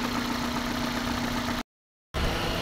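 A 2008 Toyota Altis with its check engine light on and code P0713 idles close by, a constant mid-low engine hum with a steady tone, broken by a brief cutout to silence.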